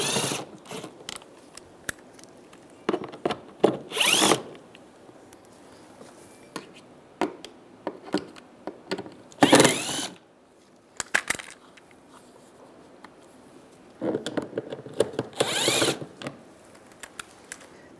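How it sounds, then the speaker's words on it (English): A socket ratchet with a 5.5mm socket removes screws on a 2007-2013 Chevrolet Silverado, clicking in several quick bursts with pauses between, close by and fairly loud, with no one talking. "Now we're going to take these screws out"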